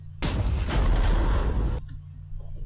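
A World War II video game trailer erupts in a loud, sustained roar of explosions and heavy gunfire lasting over a second and a half, then drops off sharply to low rumbling background noise.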